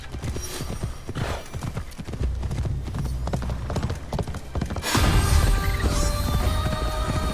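Rapid clip-clopping hooves of a galloping horse in the video game Assassin's Creed Shadows, loud and close, with a brief whinny and a heavier thudding burst near the end.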